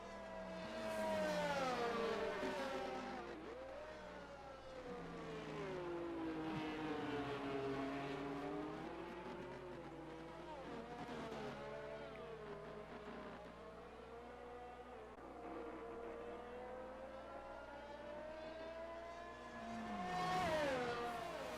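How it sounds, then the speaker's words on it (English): The Mercedes safety car in the racing game F1 22 drones past with rising and falling engine tones, revving up and easing off repeatedly over a constant background hum, fairly quiet overall. "It is the Mercedes safety car, my favorite of the game."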